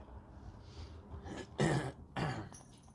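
Two sharp, close coughs in quick succession, preceded by a quieter throat-clearing sound.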